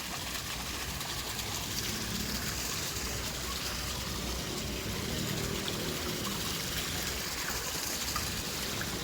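Water running from a fountain along the Pasig River Esplanade gives a steady broadband rush and splash, moderately near and continuous, with faint background sounds mixed in.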